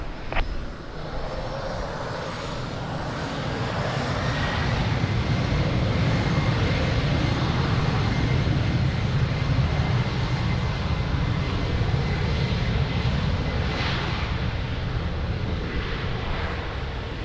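An airplane takes off from runway 02 at Lisbon Airport, its engines a broad steady roar that swells over the first few seconds and then holds loud and sustained.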